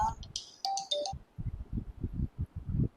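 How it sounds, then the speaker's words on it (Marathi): A mobile phone plays a short, bright electronic ringtone melody in a home, then the ringing stops and someone talks in a low voice. "फोन आलाय"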